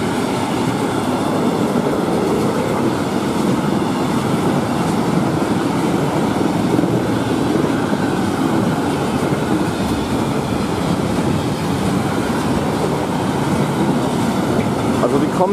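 Two EU43 electric locomotives roar past at speed on the Brenner railway's southern ramp just out of a tunnel, a loud, steady broadband rumble of wheels and rail clatter filling the whole stretch with no letup.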